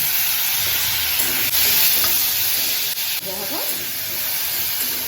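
Onion, capsicum and sweet corn fry in a pan, a steady close broadband sizzle holding throughout, with occasional stirring scrapes and light clicks of a utensil against the pan.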